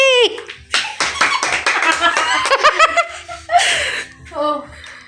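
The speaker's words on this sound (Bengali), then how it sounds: "হাততালি" People clapping during a casual home clothing try-on, mixed with loud laughter and giggling, with lively voices close by throughout.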